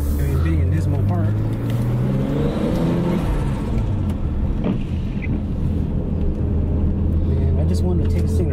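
A rebuilt Nissan RB25 engine idles and runs on its first start, a loud steady low drone with rising whirring revs, while people talk close by over it.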